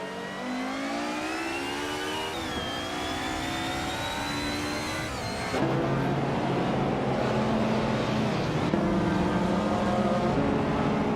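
Video game race cars, Nissan Skyline GTR R32s, drone and whine at high revs as the pack races, with engine pitch climbing between shifts and a sudden change in tone partway through, loud and continuous.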